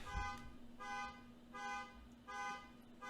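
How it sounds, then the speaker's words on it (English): Three faint horn toots repeat at an even pace, each about half a second long, over a quiet steady hum. "Am I the only one that hears a car horn?"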